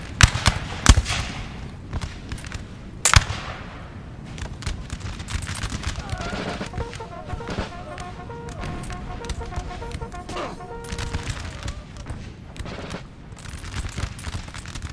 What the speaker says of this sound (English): Nice volley.